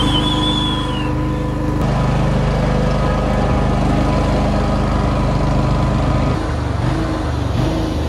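A Toyota Cressida fitted with an LS1 V8 and an aftermarket cam runs loudly nearby with a lumpy, choppy idle, its deep rumble steady and close.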